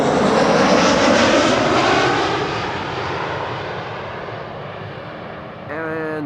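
An Airbus A320 jet arriving at Amsterdam Schiphol Airport roars loudly at first, then its engine noise slowly fades into a steady distant whine, with a person starting to talk at the very end.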